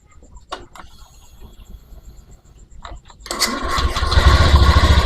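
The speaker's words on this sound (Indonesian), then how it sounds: "motor sudah hidup ya" Honda Beat ESP motorcycle with an injector problem: a few clicks and brief cranking attempts, then the engine catches and settles into a loud, steady idle close by.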